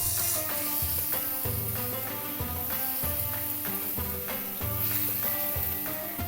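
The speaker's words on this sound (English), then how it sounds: "Now saute the tomatoes with the keema for 2 minutes" Keema and tomatoes sautéing with yogurt in a pan for a biryani give a loud, continuous sizzle and hiss, steady throughout, close up, with no voices.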